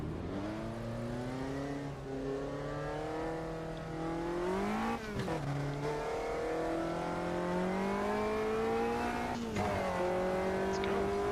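A race car engine in a racing video game runs on track with cold tires and no ABS. It sounds loud and steady, with rising revs, two quick drops as the driver shifts or brakes near the fifth and ninth seconds, then climbs again.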